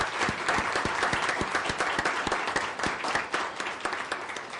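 Audience applause in the chamber of a Brazilian congressional special committee public hearing, dense sustained clapping from many people, moderately distant and fading slightly toward the end.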